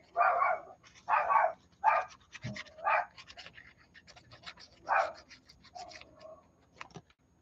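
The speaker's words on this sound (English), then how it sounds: "He's a barky little yapper. Yip yappy little doggy." A small dog yaps in a string of sharp, high barks, about six bursts spread irregularly with short pauses between them, fairly close and alone with no talking.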